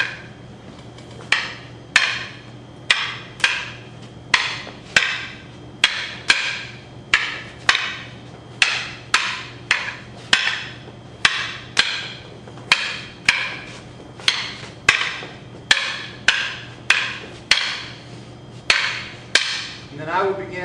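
Martial arts sticks clack together in a steady run of sharp, evenly spaced strikes, about two dozen crisp hits in pairs and singles, loud and close with no talk.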